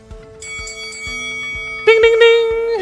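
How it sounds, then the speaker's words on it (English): A bell rung three quick times at the end of a workout session, bright metallic dings over a steady ringing tone, loud and close. "Ding, ding, ding! Triple bell there."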